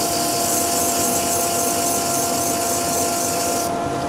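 Steady abrasive rasp of 150-grit sandpaper against a spinning wooden salt and pepper shaker on a lathe, a constant loud whirring hiss with the motor humming underneath throughout.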